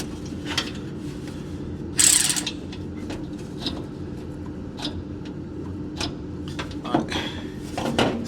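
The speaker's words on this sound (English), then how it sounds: "we can use the manual ratchet, so that's fine" A manual ratchet clicks in short bursts while tightening exhaust bolts during a catback exhaust install on a Silverado 5.3L, with faint metallic clanks and low background noise between the quiet strokes.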